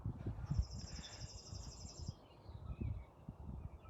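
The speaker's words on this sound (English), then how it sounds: "the bird's great." A bird sings outdoors with a faint, high, buzzy trill lasting about a second and a half. Low rumbling and scattered background noise sit beneath it.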